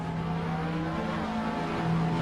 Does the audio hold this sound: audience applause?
no